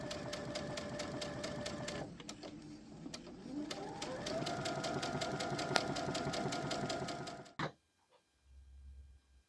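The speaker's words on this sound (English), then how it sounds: "you're going to sew those in place using that 1/4 inch seam allowance" A sewing machine stitches appliqué quilt pieces for a reversible hot pad with a quarter-inch seam, running in a fast, steady whir that eases briefly, picks up again, then stops dead and leaves near silence.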